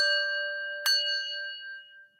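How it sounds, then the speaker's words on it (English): A single bell rings out clear and sustained, its tone ringing on and slowly fading over about two seconds, with a brighter struck accent partway through and no voices. "Please ring the bell again."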